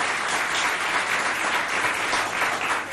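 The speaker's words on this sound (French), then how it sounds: "entre Adou Mamat et Télésphore, que je vous demande d'applaudir bien fort s'il vous plaît." Sustained applause from a school audience at a high school quiz contest, steady and full throughout, with no voices rising above the clapping.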